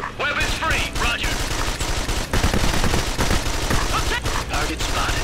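Sustained automatic gunfire from the video game Ghost Recon Advanced Warfighter 2, dense rapid bursts crackling continuously throughout, with shouted in-game radio callouts layered over the shooting.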